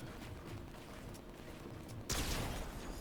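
A single loud shotgun blast cracks out suddenly near the end of a competitive solo cash cup video game match, over steady in-game background noise.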